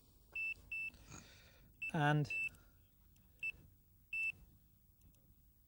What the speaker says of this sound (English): Set the rod in the alarm